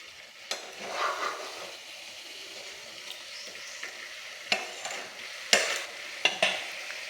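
Fish pieces are stirred and flipped in a frying pan over a low sizzle, with a series of sharp scrapes and clanks from the spatula at uneven intervals.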